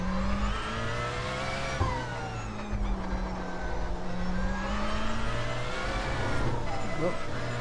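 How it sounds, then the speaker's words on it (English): A Porsche 919 LMP1 race car engine in iRacing revs and drones continuously, pitch rising and falling as it accelerates, with the power stuttering at moments as traction control cuts in when the car slides sideways. "The engine just cuts down as soon as the car gets sideways."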